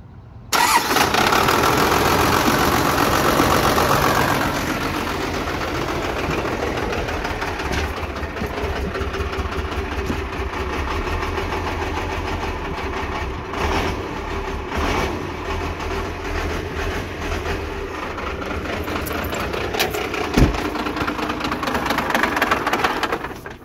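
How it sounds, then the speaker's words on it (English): A pickup truck's 12-valve swapped diesel engine, its injection pump rack reported stuck, cranks and fires into a loud, steady rumbling run close by, holding a rough clattering idle throughout. "I wanna make sure the throttle works and everything. So I'm gonna start it right back up."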